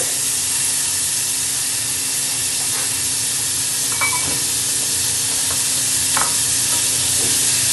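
Onions frying in butter in a pan, giving a steady, loud, dense sizzle and hiss with a few faint clicks of utensils over it.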